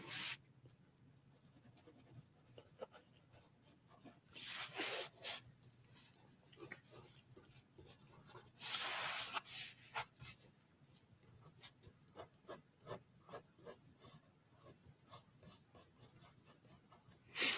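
Pencil scratches on paper in quick, irregular strokes and hatching bursts, close and fairly quiet, with some longer rubbing passages and no voices.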